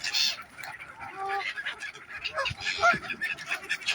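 Geese honk at a lake where gulls and swans also gather to feed, giving several close, irregular nasal calls. People chat quietly underneath.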